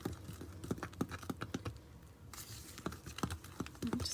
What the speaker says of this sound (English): I just want to go ahead and mix this all up.